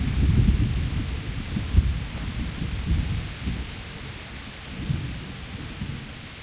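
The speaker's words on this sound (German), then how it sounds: "Es regnet zwar, aber pfff. Und es gewittert." Thunder rumbles and rain falls steadily in a stormy outdoor scene from the video game Kingdom Come: Deliverance, with deep rolling booms swelling and fading over a continuous wash of rainfall.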